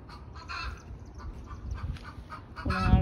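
Chickens on a backyard chicken farm cluck and squawk in a busy flock, with scattered overlapping calls and a louder, closer squawk at the end.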